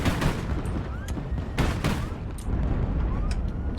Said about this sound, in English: There we are, that looks like a major secondary explosion.